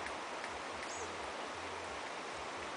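Water runs steadily from a tap in Minas Gerais while a dog drinks, a constant, even splashing hiss heard close, with no voices.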